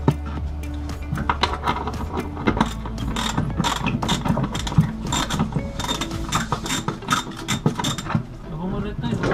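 Welded bolts being worked out of a boat rudder, with continuous close mechanical ratcheting and clanking of tools on metal over a steady low hum, busy and fairly loud throughout.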